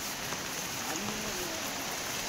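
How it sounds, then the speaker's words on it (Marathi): Heavy rain pours down at night near a deep river, a steady dense hiss with no talk over it. "रात्र आहे आणि पाऊस पडते ना डेंजर पाऊस पडते"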